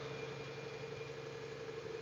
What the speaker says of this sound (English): Can y'all hear the truck? Because I feel like this truck is real loud all of a sudden.